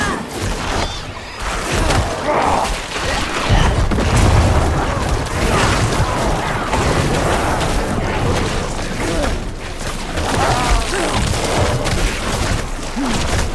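Necromancer corpse explosions in Diablo 4 burst as repeated booming, crunching blasts layered with clattering game effects, dense and continuous throughout.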